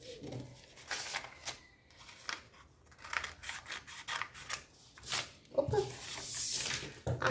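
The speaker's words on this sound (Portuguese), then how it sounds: "E aqui a gente vai cortar." Scissors snip through folded fabric while cutting out a simple square-neck child's dress, a run of close, crisp cuts and rustles with brief quiet gaps, the cloth shifting between strokes.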